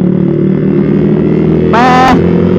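A motorcycle rides alongside a Kawasaki ZX25R on a group Sunday ride, giving a loud, steady engine drone close by, with a brief rising rev whine near the end.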